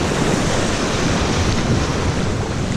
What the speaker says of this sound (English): Woohoo, here comes another wave.